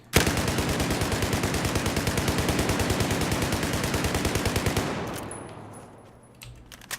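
Rapid sustained burst of automatic fire from a U-100 MK5 machine gun fired from the hip in Battlefield 4, loud and relentless for about five seconds before cutting off into a brief quiet tail.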